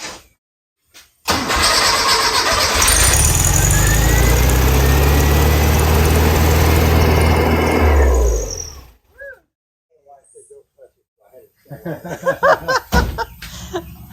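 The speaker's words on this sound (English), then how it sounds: "I was going to start the car" A VW Type 35 engine cranks and catches, then runs loudly for about seven seconds before cutting off, after which people laugh and talk nearby.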